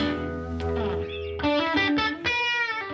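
An electric guitar plays a short lead phrase with heavy distortion and effects, sustained notes bending and ringing out.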